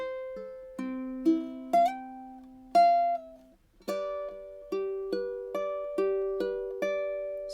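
Fingerstyle ukulele ending phrase of a song's intro, plucked clearly up close: a few ringing notes with a brief pause, then an evenly repeated picking pattern of sustained notes.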